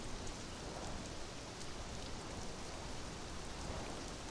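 Steady rain falls, a dense continuous hiss of drops pattering on surfaces, even and unbroken, with no voices.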